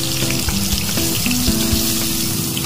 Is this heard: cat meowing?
no